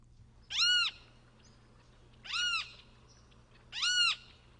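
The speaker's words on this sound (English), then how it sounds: "You can hear it say its name, Kiskadee, or Kicker." A great kiskadee gives three loud, evenly spaced two-part calls, each a bright rising-then-falling cry, separated by quiet pauses.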